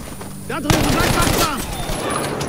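Browning MMG machine gun fire in the Battlefield 5 video game, a burst of loud rapid shots that begins abruptly and keeps rattling on densely, with a voice partly mixed in.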